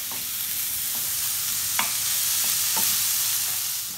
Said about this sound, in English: We're going to fry up the onions and garlic.